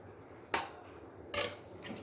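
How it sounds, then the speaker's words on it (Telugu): A spoon clinks twice against a pot while onions, salt and turmeric are stirred and mixed. The two sharp metallic taps are spaced apart over a quiet background. "దాన్ని మంచిగా మిక్స్ చేస్తున్నారు."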